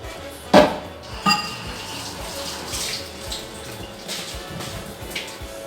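Banana bread batter folded into two cups of flour in a bowl, with a couple of sharp clinks of utensil on the bowl early on, then soft, steady wet scraping and stirring.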